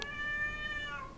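A house cat gives one drawn-out, wavering territorial meow, close and fairly clear, aimed at another cat outside, with no other voices.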